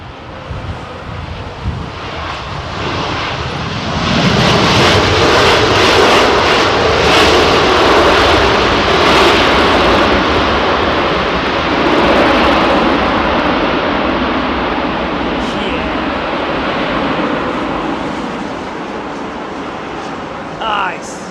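An Aeromexico airliner lands on runway 27R at London Heathrow, its loud engine roar swelling in from afar and holding strong before easing off, with wind buffeting the microphone and people talking nearby.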